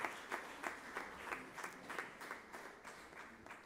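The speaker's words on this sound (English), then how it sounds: "please join me with a big round of applause to all the eminent speakers" An audience at a national workshop on hidden hunger and food fortification applauds the eminent speakers, giving faint, distant clapping with a loose pulse that continues steadily throughout.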